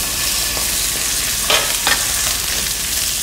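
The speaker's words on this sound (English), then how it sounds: "then we'll add it right back into the pan and give it a nice sear" Meat searing in a hot, smoky pan for a home-cooked Italian-Mediterranean dish, a steady close crackling sizzle with a couple of brief louder spatters and stirring scrapes.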